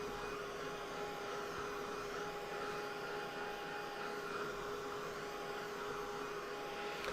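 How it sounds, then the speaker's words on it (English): A hair dryer is moved over a watercolor painting of tall grasses, giving a steady whirring blow with a constant tonal hum, unbroken and moderately close, with no talking. "if you have to use a dryer, I would keep it moving"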